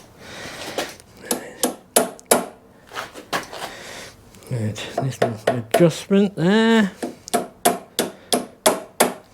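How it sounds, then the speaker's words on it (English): Hammer or mallet knocking a pin into a combination lever on a 7 1/4 inch gauge model locomotive, repeated sharp taps in a steady rhythm with brief speech in between. "I'm going to have to knock that in with a hammer or a mallet."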